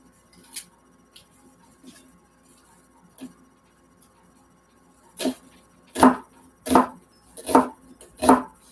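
An onion being chopped for keto pigs in a blanket at a campsite, a few sparse knife taps at first, then four loud, evenly spaced chops close by.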